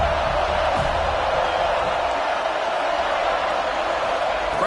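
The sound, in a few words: football stadium crowd cheering on fourth down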